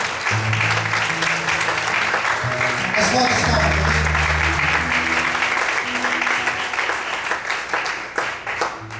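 A church congregation claps together during a Sunday morning service, a dense sustained applause over sustained musical tones, with a voice briefly speaking near the start.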